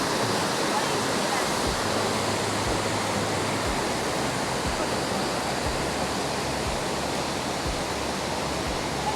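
Kuang Si waterfall roars as a loud, constant broadband wash of falling water, unbroken and close, with faint low thumps repeating beneath it.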